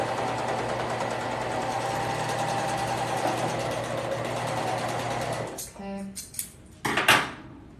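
A serger runs continuously, sewing the side seam of an Emma crop tank top with a steady whirring buzz. It stops abruptly near the end and is followed by a few close clicks and rattles of handling.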